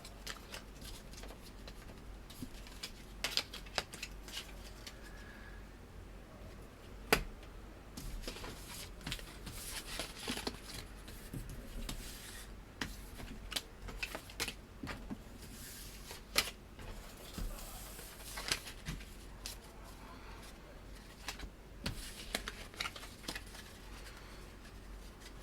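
Tarot cards being shuffled and drawn for a reading, a soft papery riffle with scattered light ticks and slaps of cards landing, fairly quiet and close, with no talking.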